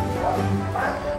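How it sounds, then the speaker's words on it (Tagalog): A small dog yips and bow-wows briefly in the distance, mixed in with a voice speaking and some background noise. "Ay, ba't parang may nakahol na aso?"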